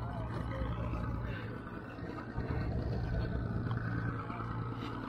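Steady motor drone of fast motorboats on the water at the Islamorada sandbar, a low continuous hum that swells slightly midway, with faint voices in the background.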